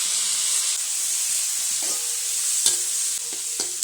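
Coconut pieces frying in hot oil for a Kerala-style duck curry, a steady close sizzle with occasional scrapes and knocks of a spoon stirring the pan.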